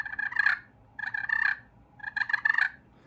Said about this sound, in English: This is a purr.